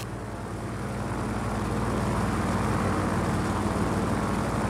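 An aircraft comes in to land in the video game Just Cause 4, its engine a steady, full roar that builds slightly and holds, loud and continuous, with no talk.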